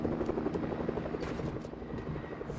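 Helicopter from the video game Fortnite hovering close by, a steady loud thrumming rotor chop with pulsing beats throughout, no talk over it.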